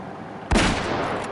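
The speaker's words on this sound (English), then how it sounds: "Oh my god, I fucking shot it in the head." A single sharp rifle shot fired while hunting in a video game, one close loud crack followed by a fading rumble over quiet ambience.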